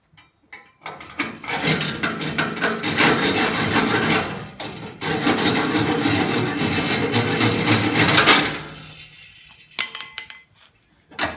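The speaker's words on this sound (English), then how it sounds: "I'll just get the hacksaw." Hacksaw cutting through thin steel car body panel on a Toyota Supra: steady back-and-forth rasping strokes with metallic scraping, continuous for several seconds before tapering off into quieter handling sounds.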